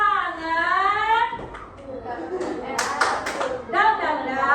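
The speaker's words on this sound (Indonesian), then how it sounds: "Tepuk semangat." A school class performs the rhythmic 'tepuk semangat' spirit clap, with bursts of quick group hand claps in a pattern that alternate with children and a teacher chanting and speaking.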